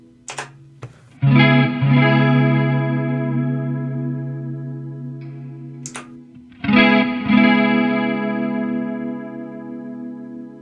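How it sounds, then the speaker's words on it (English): Electric guitar chords through a Line 6 POD GO Roland JC-120 patch, chorus switched to vibrato, ringing with a wavering, watery modulation, two strummed passages separated by a brief pause, played alone without talk. "I like the very atmospheric movement of the vibrato effect"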